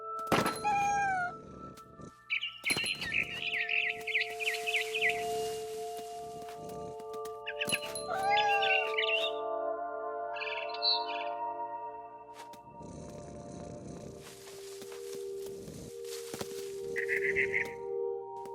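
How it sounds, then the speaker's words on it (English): A barn swallow chirps in bright, repeated bursts in the video game What Remains of Edith Finch, heard over a steady tonal ambient drone with occasional soft thuds and no speech. "Then I heard chirping outside my window. It was a barn swallow going back to her nest."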